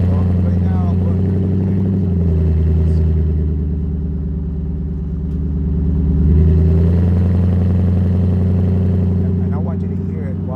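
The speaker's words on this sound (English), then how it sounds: "I want you to hear it while it's still tame" Straight-pipe exhaust on a 2021 Toyota Tundra driving slowly, a loud deep burbling drone that swells and eases with gentle throttle changes, close and continuous.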